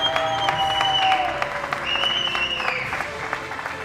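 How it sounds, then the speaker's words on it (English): Audience applause rings through the finals hall at the Sydney International Shooting Centre during a medal ceremony, steady clapping under a few sustained tonal sounds. "Just wanted you to hear that applause."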